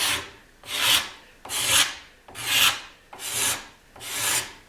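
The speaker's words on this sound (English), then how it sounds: "it's not a very aggressive scraper. And I'm just taking a little bit off here." A mild hand scraper shaves tiny curls from a carved wooden electric guitar neck in six steady, even strokes, close and clear, with no talk.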